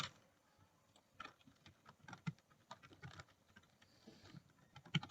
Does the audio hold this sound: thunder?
no